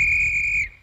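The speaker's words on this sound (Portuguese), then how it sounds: "é só apitar assim." A small whistle blown in a Woody Woodpecker cartoon gives one sustained, shrill, clear note lasting just over half a second before it cuts off.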